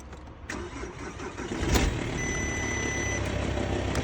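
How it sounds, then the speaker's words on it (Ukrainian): A car engine, cold after sitting overnight, turns over and settles into a steady idle, with a brief mechanical whine and faint beeping tones partway through. "Двигун працює нормально"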